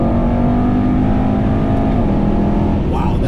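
A 2018 Mercedes-AMG E63S Wagon engine pulling hard, a steady loud drone rising then shifting pitch as it upshifts, heard from inside the car.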